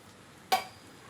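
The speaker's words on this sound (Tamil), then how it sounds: "ரெண்டு பக்கமும் சுட்டு எடுத்துகிட்டு பார்ப்போம்" Wheat dosa batter hits hot oil on a pan with one sudden sharp sizzle that fades quickly into a faint, quiet hiss.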